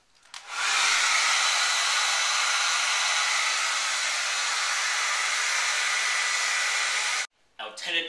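A hair dryer switches on and blows with a steady, loud airy rush for about six seconds, then cuts off abruptly, followed by a brief faint sound.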